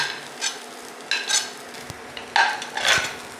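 Onion being stirred in a pan: a few spaced, close spoon-and-metal scrapes over a faint sizzle, with short bursts of clattering strokes and quiet gaps between them, and no voices.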